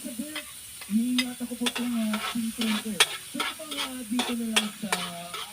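Garlic sautéing in a hot pan after tomatoes, onion and ginger: a steady sizzle broken by repeated scraping stirs of a utensil against the pan, close and moderately loud.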